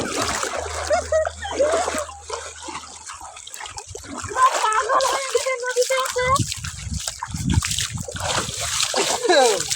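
Water splashes and sloshes as people bathe in a river, with irregular close splashes and drips mixed with voices and playful chatter.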